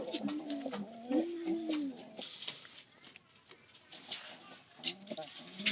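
Pigeons give low, rolling coos close by, a few drawn-out calls in the first seconds, then fainter murmurs over soft rustling and scuffling.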